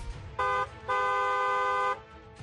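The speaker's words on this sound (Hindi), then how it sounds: "हॉर्न बजाना जरूरी है।" Two honks from a vehicle horn, a short blast followed by a longer sustained one, loud and close over faint street background noise.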